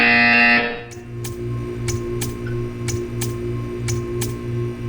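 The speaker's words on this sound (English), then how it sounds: "You will hear a buzzer." A buzzer in the video game Portal 2 sounds in a regular series of short electronic pulses, evenly spaced about half a second apart, over a steady low hum after a brief tone fades.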